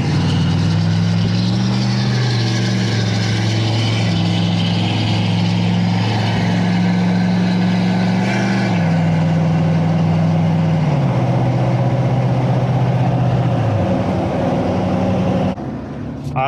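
A pickup truck with a Spartan tuner on a 200 horsepower tune and a 5-inch exhaust makes a half throttle pull while hauling an overloaded trailer. The loud, steady engine drone steps down in pitch as it shifts through gears, then cuts off near the end.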